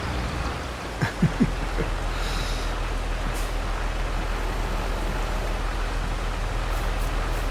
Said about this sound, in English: It hasn't stopped raining yet.